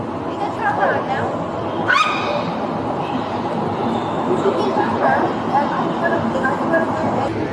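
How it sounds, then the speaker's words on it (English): A dog barks and whimpers amid a tense police trespass arrest scene, its yips and whines sounding fairly close over steady background noise while people talk nearby. "But you got a dog."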